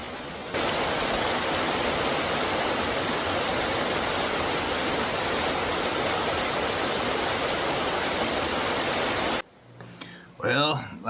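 Codfish Falls waterfall near Foresthill, California, as a loud, steady roar of rushing water that cuts off abruptly near the end. A voice follows the cutoff.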